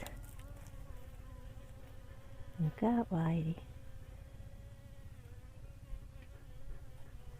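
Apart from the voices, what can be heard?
bees buzzing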